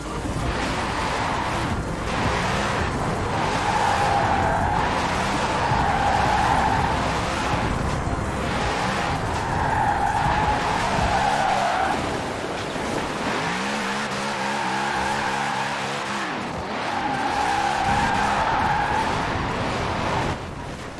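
A rear-wheel-drive car, apparently a Mercedes, drifts in Forza Horizon 4. It is driven on a keyboard, with loud repeated tire squeals that rise and fall over a continuous engine roar for about twenty seconds and no talking.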